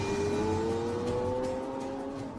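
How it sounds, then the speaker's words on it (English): A Lamborghini Aventador on its final road test drives close by, a loud steady engine drone with a slowly rising pitch and a gentle swell of revs, continuous and alone with no talk. "each Aventador must undergo one final phase: the all-important road test"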